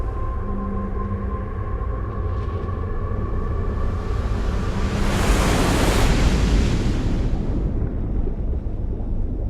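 Ocean surf rolls in a steady, dense wash of noise, swelling into a broader crashing surge midway before easing back to a continuous roar.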